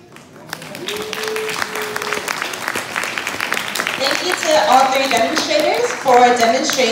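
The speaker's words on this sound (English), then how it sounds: "let's have one more round of applause for all three of our demonstrators" An audience applauds after a flash mental math demonstration, steady clapping that swells and continues while voices talk and call out over it.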